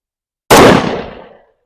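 A single loud 10mm pistol shot from an XDM Elite with a 3.8-inch barrel, firing Blazer Brass ammunition; a sharp close bang with a brief decaying echo, alone.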